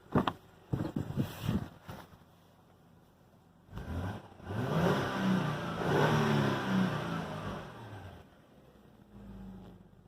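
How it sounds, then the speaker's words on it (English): A few clicks and knocks, then a Hyundai Santa Fe engine, off the road for seven years, is revved once, swelling to a loud roar and sinking back to a quieter idle. "Let me give it a quick rev for you."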